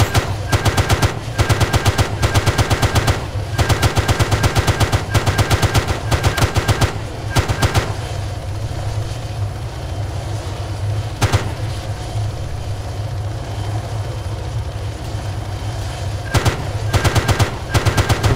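Gunfire in the ArmA military simulation video game: long, loud bursts of rapid machine-gun fire in steady rhythm, pausing briefly while a jet engine roars throughout, then resuming near the end.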